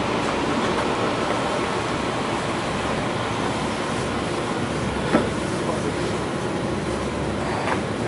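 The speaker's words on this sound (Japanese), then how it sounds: "ではね、列車に乗車いたします。" Steady rumbling train noise throughout, a continuous broadband roar with faint rail clatter and one brief sharp click midway.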